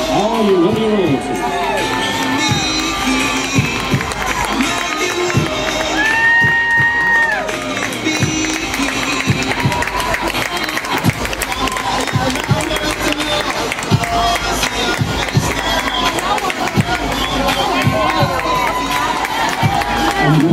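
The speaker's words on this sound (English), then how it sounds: "A nice round of applause." An outdoor rodeo crowd at a PRCA rodeo coronation in Crossett, Arkansas cheers and claps for the rodeo royalty, a steady roar with shouts and whoops mixed with an announcer's amplified voice.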